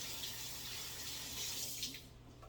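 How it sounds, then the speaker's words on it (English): Hands are washed under a running kitchen tap, a faint steady splashing stream that carries on evenly throughout. "just gonna wash my hands right here"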